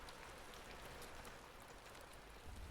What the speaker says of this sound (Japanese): 静かに雨が降っていました